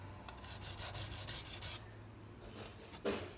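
A MAC chef knife is stroked along a whetstone in a quick series of about eight close, gritty rasping scrapes, then a pause and a couple more strokes, with no talking.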